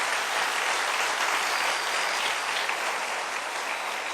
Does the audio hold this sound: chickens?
no